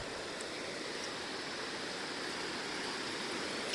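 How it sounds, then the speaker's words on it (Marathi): Village stream of water rushing and gurgling steadily through a village in Kadvai, Oktewadi, a broad continuous wash of flowing water that holds even and fairly close from start to end, with no voices. "आणि हे पाणी असं सरळ गावातनं खळखळत खळखळत आवाज करत जातं"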